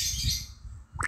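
A short bird chirp from the Stack Ball mobile game, a bright tweet that sounds alone and fairly faint at the very end of a brief quiet moment.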